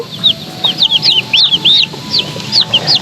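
Thirteen young chicks drinking water, peeping in a run of high, quick chirps, some overlapping, steady over a low background hum with no voices.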